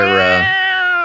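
A voice imitates a cat meowing, a loud, close, drawn-out meow that slides down in pitch.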